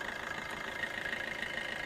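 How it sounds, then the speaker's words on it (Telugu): A Maruti Suzuki S-Cross Alpha car engine idling smoothly, a steady, even mechanical hum with a fine regular pulse, heard close and alone. "ఒకసారి ఇంజన్ చూపిస్తా. ఇంజన్ కూడా చాలా నైస్, చాలా స్మూత్ ఉంది."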